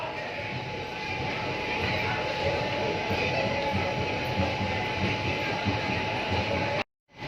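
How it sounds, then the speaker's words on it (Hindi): The Kalka–Sainagar Shirdi train draws into a station with a broad, steady rumble and roar of rolling wagons and a faint clatter, ending in a sudden cut-off. "और वो सामने ट्रेन आई है कालका साईनगर शिरडी।"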